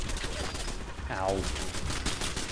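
Automated turrets firing in Fallout 76, a fast rattling burst of gunfire with a sweeping zap partway through, moderately loud under a speaking voice.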